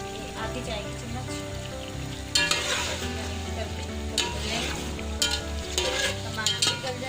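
Tomatoes and spices with salt and red chilli powder frying for chicken pulao, a loud, steady sizzle with repeated scraping stirs of a spoon against the pan throughout.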